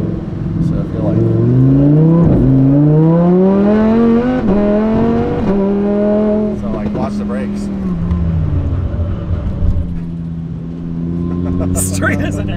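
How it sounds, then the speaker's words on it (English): A Lamborghini brakes hard going downhill on a wet road with ABS kicking in; the engine note winds down from a loud pull and settles into a low rumble, with voices talking throughout. "ABS was kicking in because, like you said, it's really wet out."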